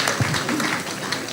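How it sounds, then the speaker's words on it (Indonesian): A seminar audience at the Indonesian Supreme Court gives a brief spatter of applause, with scattered claps that fade within about a second. "Yo, beri tepuk tangan."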